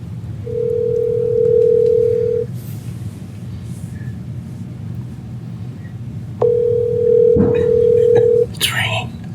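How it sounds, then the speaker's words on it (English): Telephone ringback tone heard during an outgoing call, two long steady beeps separated by a pause of a few seconds, with faint background rumble and a brief clatter near the end. "It's ringing."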